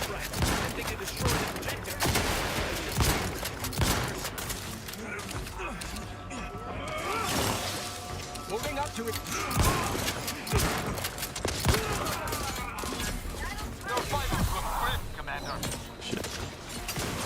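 Dense, continuous gunfire in the video game The Outer Worlds 2, heavy chaotic shooting and impacts layered thickly through the whole stretch, with a person talking underneath.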